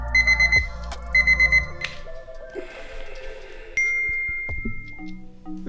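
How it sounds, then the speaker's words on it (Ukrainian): A small alarm clock rings its alarm in short, bright, repeated bursts of chiming tones, followed by other pleasant ringing and jingling sounds, clear and close with no talk. "він не тільки працює, а ще й дійсно дзвонить у заданий час, причому сигнал дуже приємний"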